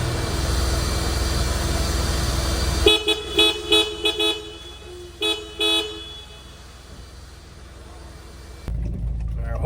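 Hella aftermarket car horns fitted to a 2019 Honda Accord give a series of short, loud honks with one longer blast, close by over a steady engine-like hum, ending in a low rumble.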